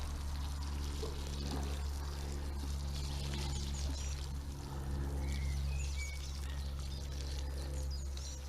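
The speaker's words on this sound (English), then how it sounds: "Give them a good watering in." Water pours steadily from a can onto freshly planted pickling onions in a garden bed, a continuous soft splashing with faint birdsong in the background.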